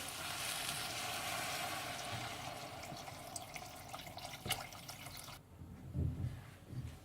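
About 1.5 litres of water pours in a steady stream into a pot of curry soup, then stops, leaving a few drips and soft kitchen handling sounds.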